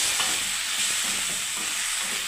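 Mustard and poppy seed paste with peanuts, green chilli, tomato and turmeric fries in a pan for spicy okra, a loud, close, constant sizzling hiss with faint stirring scrapes underneath.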